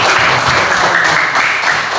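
A classroom of pupils clapping their hands together, a steady dense patter of many small claps filling the room close by for the whole stretch.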